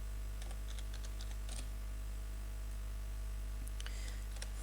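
Keys on a computer keyboard are tapped in short, quiet bursts while a sentence is typed, sparse clicks over a steady low electrical hum.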